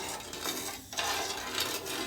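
Soft, continuous scraping and rubbing of a utensil stirring sugar syrup in a pan for laddu, steady and close, with faint bubbling and no voices.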